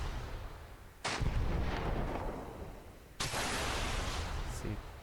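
Weapons fire in the Command Modern Operations war game, two loud sharp blasts with rumbling tails, about two seconds apart, with no talking.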